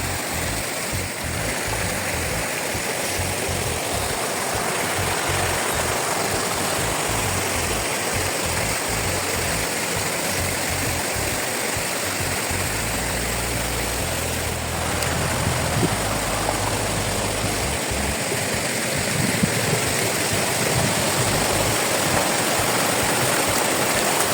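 A forest river near a mountain camp flows steadily, a dense continuous rush of water close by that stays even and loud throughout, with a faint low rumble partway through and no voices.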